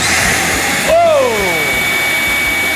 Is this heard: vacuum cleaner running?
yes